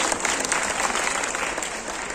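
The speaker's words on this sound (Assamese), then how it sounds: "সকলোৱে এটি হাত চাপৰি এই কমিটি উঠাই দিবলৈ অনুৰোধ জনাইছোঁ।" Sustained audience applause from a crowd at a Bihu queen dance competition in Latasil, a dense, even patter of clapping hands that holds steady throughout.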